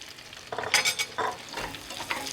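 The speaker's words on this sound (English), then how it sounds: "Once that butter's melted, we can add our carrots." Thinly sliced carrots hit melted butter in a pan, bursts of close sizzling and stirring rustle that swell and ebb over a couple of seconds.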